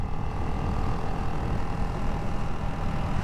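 A Ducati Hypermotard 698 Mono RVE single-cylinder motorcycle being ridden, giving a steady, continuous engine drone with rumbling low-end and wind noise throughout, with no change in pitch or level.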